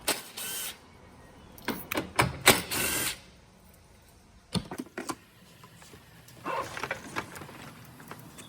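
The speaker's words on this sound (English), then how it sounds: "we're going to start out by removing these two bolts up here using a 10mm socket" Socket wrench with a 10mm socket ratcheting out headlight bolts on a 2018-2020 Honda Passport, in quiet clicking bursts separated by pauses.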